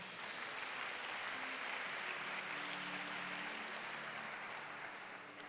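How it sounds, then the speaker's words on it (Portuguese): A congregation at a church communion service claps together in sustained, dense applause that stays even, then tails off slightly at the end, with a faint voice tone running underneath. "Dê uma salva de palmas."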